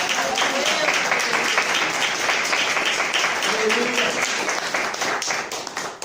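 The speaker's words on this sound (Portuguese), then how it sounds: "Quem pode aplaudir o nome do Senhor." A church congregation at a workers' seminar breaks into dense, loud applause lasting several seconds, with voices calling out and murmuring beneath the clapping.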